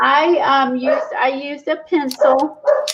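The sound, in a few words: dogs barking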